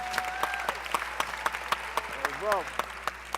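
Conference audience at a braintrust session gives a round of applause, a steady wash of clapping with sharper claps standing out and a voice speaking over it.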